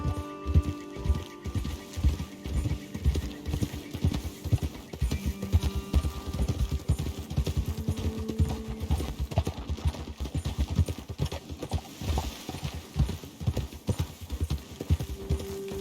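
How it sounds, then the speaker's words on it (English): Horses walk with steady clip-clop hooves in the Red Dead Redemption 2 video game, a close, continuous rhythmic plodding of several animals throughout, with a brief whinny. "Best leave the horses back a bit."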